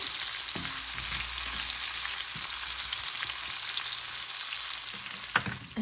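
Peppers sizzle steadily in hot oil for Tunisian ojja merguez, a continuous close frying hiss with a few soft stirring knocks and a sharper clack near the end, no voices.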